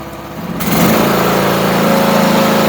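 A small FF Industrial Chinese mini excavator's engine throttles up from a low idle, rising within the first second into a loud, steady, buzzing high-rev drone that holds to the end.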